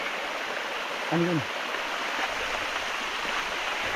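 Water running steadily in a stream, a constant broadband rush heard up close throughout, with a brief spoken question partway through.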